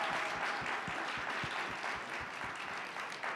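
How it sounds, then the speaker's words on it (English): An audience gives a steady round of applause for event volunteers at a university three-minute-thesis competition, dense and continuous, heard from within the room with no talking. "So a big round of applause to them, please."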